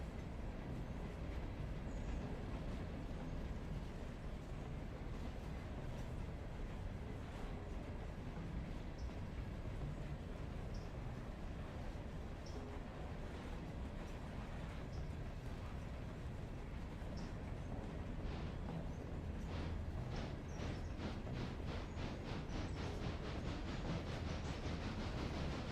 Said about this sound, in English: This is gonna be such a long train.